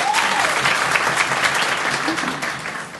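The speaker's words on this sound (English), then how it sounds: "So can we give her another round of applause" An audience at a dialogue event on sex workers applauds a deputy minister, with full, sustained clapping that tapers off toward the end as a voice begins under it.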